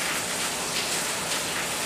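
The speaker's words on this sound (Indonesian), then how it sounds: "Di Denpasar saat ini hujan sehingga ada suara gemericik." Rain falling in Denpasar in January, a steady soft patter and hiss of drops that fills the whole stretch evenly and without pause, fairly close and moderately loud, with no voices.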